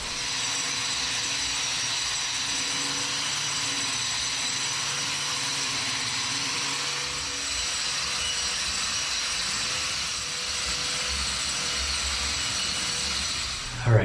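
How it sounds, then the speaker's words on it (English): A hand grinder works a concrete garage floor, a loud, continuous, harsh whine with a steady rasp that holds unbroken for the whole stretch and stops abruptly at the end. "I'm gonna do this square completely with the hand grinder"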